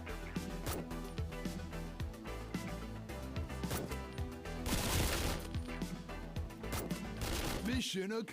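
Rapid gunfire from the side-scrolling shooter game Action Squad, dense bursts of shots layered over steady game music, loud and continuous throughout with a brief lull near the end.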